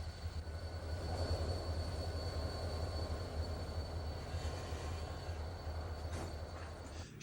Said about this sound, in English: U-25B on train CD-14 arrives at Oakwood Yard.